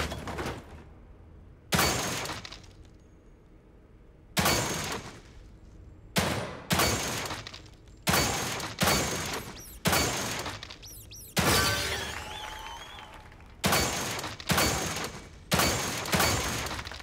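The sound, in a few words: gunfire at shooting gallery in video game The Evil Within 2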